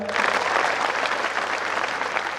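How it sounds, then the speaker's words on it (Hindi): Audience applause at a coaching institute gathering, a loud continuous burst of many hands clapping together, steady throughout, over a low hum. "ताली बजाओ भाई"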